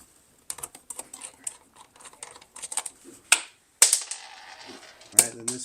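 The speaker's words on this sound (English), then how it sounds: "It's on here pretty tight, so I'm using some pliers to loosen it up" Pliers grip and twist a tight screw on an indoor wall light fixture, giving sharp close metallic clicks and creaks in irregular bursts, with a few louder snaps and scrapes near the end.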